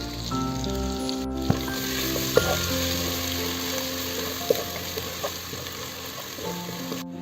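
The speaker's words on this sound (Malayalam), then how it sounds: "ആദ്യം വെളുത്തുള്ളി, ഇഞ്ചി, പച്ചമുളക് ക്രഷ് ചെയ്തിട്ട് ഈ എണ്ണയിലോട്ടൊന്ന് ഇടാം." Crushed garlic, ginger and green chili sizzle steadily in hot oil for a Malabar fish biryani, a loud continuous frying hiss with an occasional stir or clink, no talking.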